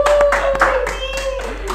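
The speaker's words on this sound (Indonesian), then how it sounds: "Tepuk tangan atuh." A few quick hand claps ring out close by in a podcast studio, sharp separate hits over a steady tone, with a brief bit of voice among them.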